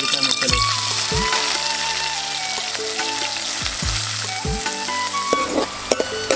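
Thinly sliced onions fry in a generous pour of hot oil for chicken korma, giving a loud, continuous sizzle with faint tones in the background.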